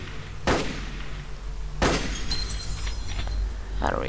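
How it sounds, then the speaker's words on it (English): Glass shattering from gunfire in the Aliens: The Roguelike video game: two sharp crashing bursts with a brief tinkling tail, the second denser and longer, over a steady low game drone. "Let's just shoot this damn glass."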